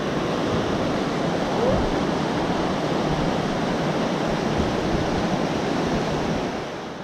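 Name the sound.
creek water flowing by a bridge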